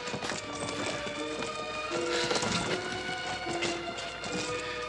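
Horse hooves clip-clop steadily in a Western drama scene, a busy, continuous patter mixed under tonal background music.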